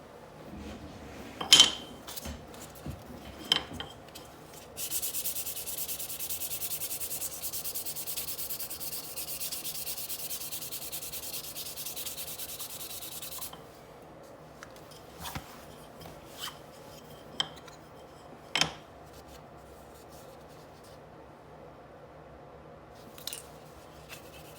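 A CA-finished knife handle is hand-sanded between coats, a steady close rasping stroke running for several seconds amid scattered knocks and taps from handling on the bench.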